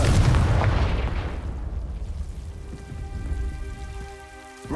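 A Confringo fire-blast spell in the Hogwarts Legacy video game erupts in a loud, booming burst that fades into a crackling, rumbling tail, followed by a thin ringing shimmer.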